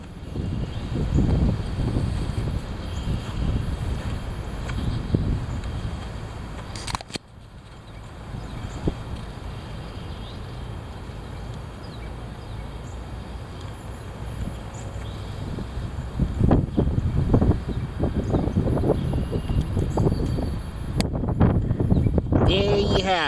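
Heavy wind buffets the microphone outdoors as a steady low rumble with gusty surges. It is broken by a sharp click midway and grows rougher toward the end, with scattered knocks.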